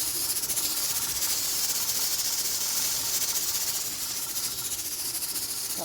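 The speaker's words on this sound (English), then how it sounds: "I'm by my pressure canner here and it's still wobbling away" A pressure canner weight rocking and hissing on a homestead kitchen stove gives off a steady, dense, close hiss that runs unbroken the whole time with no talking.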